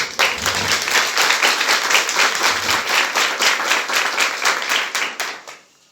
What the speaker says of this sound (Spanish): Démosle un fuerte aplauso al hermano.